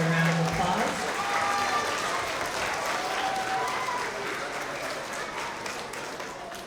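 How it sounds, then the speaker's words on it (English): Audience at a school award assembly for K–2 students clapping for kindergarten award winners, a full burst of applause that slowly thins and fades toward the end. "let's give all of our TK and kindergarten Tigers of the Quarter another round of applause"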